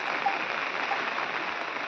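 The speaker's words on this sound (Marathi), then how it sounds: "आता पाऊस इलो तर बघा" Steady, even rain patters on a surface under a khair tree in rural Konkan, a continuous close wash of water with no other sounds.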